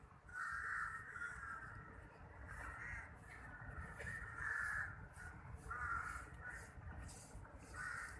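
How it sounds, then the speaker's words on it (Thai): Several crows caw repeatedly in short bursts at a moderate distance in Lumphini Park, Bangkok, over a low background rumble. "ระหว่างที่ผมเดินมาตลอดทางนี่มีเสียงอีการ้องกันตลอดเลย"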